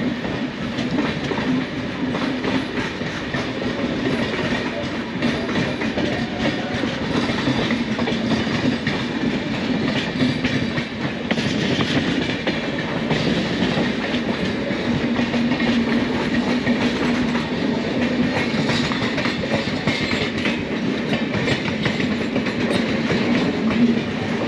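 The New Delhi–Indore Intercity Express runs steadily, heard from inside a sleeper-class coach. A constant rumble of wheels carries a soft rhythmic clatter over the rail joints, with no voices.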